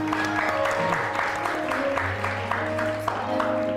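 Studio audience on a television show claps over a steady background hum, a moderate round of applause with some tonal music or electronic tones mixed in.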